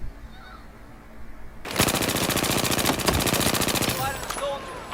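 Rapid automatic gunfire bursts out in a video game, a dense loud stream of shots lasting a couple of seconds after a quiet start, with scattered single shots and faint voices afterward.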